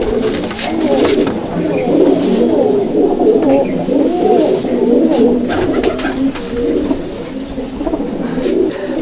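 Malbai/Panjabi breed pigeons coo continuously in a loft, a dense overlapping chorus of low throaty calls from many birds close by, with no talking.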